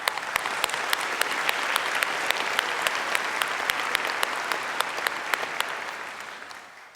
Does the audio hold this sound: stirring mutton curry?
no